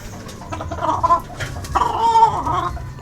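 Gamefowl chickens cluck in short bursts, two main clusters of close, fairly loud clucking calls with brief pauses between, no talking.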